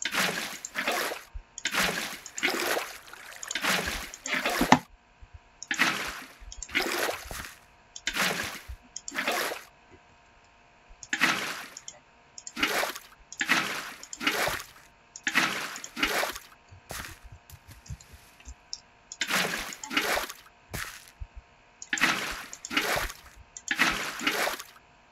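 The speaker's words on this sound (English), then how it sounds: "Just water. Just watering the crops." Splashing, trickling water in a video game while crops are watered, heard as repeated short bursts about a second long separated by brief gaps, steady and fairly close, with no talking.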